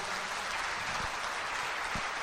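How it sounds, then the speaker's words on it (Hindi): An audience in a hall applauds a speaker being welcomed to the microphone at an Amway event, a dense steady wash of clapping, fairly distant and unbroken, with no voices on top. "आप जोरदार तालियों से इनका स्वागत कर सकते हैं।"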